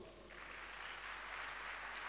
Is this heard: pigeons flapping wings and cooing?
no